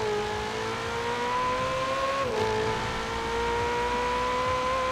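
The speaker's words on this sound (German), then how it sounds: "das Fahrzeug klingt einfach nur mega geil" Ferrari engine in Forza Horizon 4 revving steadily while driving on a summer road, a loud, sustained tone with a brief dip in pitch during a gear change midway.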